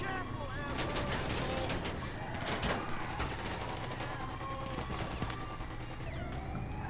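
Sustained gunfire from soldiers at an army base in GTA V pours onto an armoured vehicle, a dense, continuous fusillade of rapid shots with rumbling impacts, steady and loud throughout the clip.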